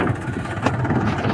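A tractor engine runs in a short burst, a steady mid-pitched idle with a small rev bump partway through, close and fairly loud.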